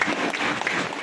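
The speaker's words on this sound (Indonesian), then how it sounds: "Mohon hadirin mau beri tepukan yang gemuruh kepada Presiden kita" Crowd applause for a party president at a political rally, a dense, continuous burst of many hands clapping at once, loud and close with no break.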